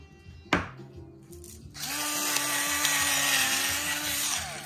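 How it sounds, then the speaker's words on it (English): An electric hand mixer fitted with a whisk starts after a sharp knock and then whirs steadily in a close, loud motor whine, mixing deviled egg filling in a bowl. "I'm gonna use my hand mixer with the whisk on here"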